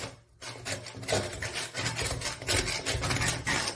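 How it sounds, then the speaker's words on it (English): Scrubbing mold and grime off shower silicone sealant, a steady run of close, rough rubbing strokes in quick rhythmic bursts, loud and without talk. "Just clean all that grime, all that mold."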